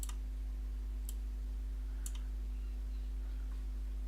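Computer mouse clicks while working in steel-sheet analysis software: three sharp, isolated clicks about a second apart, then a few fainter ones, over a quiet room with a constant low electrical hum.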